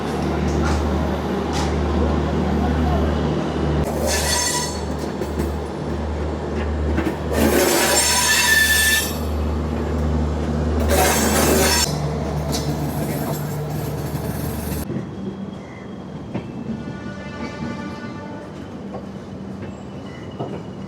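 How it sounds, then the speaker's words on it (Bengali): Howrah Puri Shatabdi Express, train 12277, pulls out and runs: a steady, close rolling rumble with several brief bursts of hissing and rattling, then a sudden shift to a quieter, thinner interior sound. "ট্রেন নাম্বার বারো দুশো সাতাত্তর কিন্তু ছেড়ে দিল"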